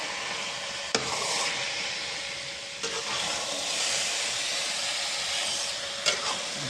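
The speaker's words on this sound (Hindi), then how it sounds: "अब ये हम इसे मिला लेंगे, मिक्स कर लेंगे।" Paneer stirred into carrot halwa cooking in a pan: a continuous, fairly loud sizzling hiss, broken by three sharp clinks of the spoon against the pan.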